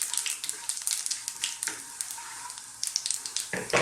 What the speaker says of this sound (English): They're going to fry around in there, roast and release a lovely aroma, really infuse that oil.